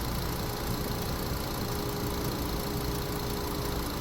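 A 2012 VW Passat engine runs at a steady idle with a continuous even drone and no change in pitch, heard close and alone without talk.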